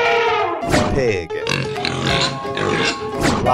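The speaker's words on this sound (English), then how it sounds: "Pig." Loud, close pig grunts and oinks from an animated animal game, several rough bursts in a row with brief gaps between them.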